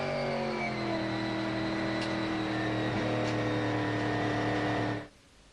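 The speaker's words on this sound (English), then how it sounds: "See the Kane Scott car ahead just warming the tyres." A 1994 Trans-Am race car at Pukekohe revving its V8 engine while warming tyres before the race, a loud sustained rising engine note with strong harmonics that cuts off abruptly near the end.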